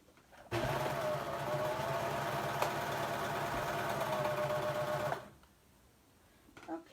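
Serger sewing machine running a three-thread seam: one steady, close, continuous motor whir with rapid rhythmic stitching for about four and a half seconds, then it stops and leaves quiet room tone.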